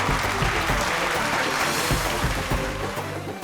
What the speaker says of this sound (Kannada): ನೀವು ಚಪ್ಪಾಳೆ ಹೊಡೀರಿ.